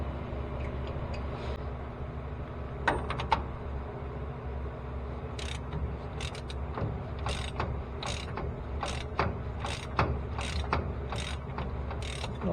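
Wrench ratcheting on the rear differential pinion nut of a Scout 80, a run of quiet metallic clicks and turns in repeated short bursts, close by with no talk.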